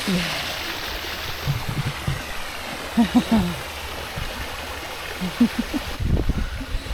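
Water from a pool water feature splashes and trickles steadily at an outdoor pool in Broome, a continuous wash with brief louder splashes and voices talking over it.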